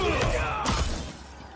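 Glass shattering during a Mortal Kombat 1 fatality, a loud sharp crash near the start followed by a second burst of breaking shards, then fading debris and a low rumble.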